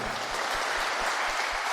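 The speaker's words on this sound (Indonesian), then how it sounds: "Tepuk tangan untuk ada semuanya." A crowd at a Buddhist puja service applauds together. The clapping is steady, dense and even for the whole moment, with no talk over it.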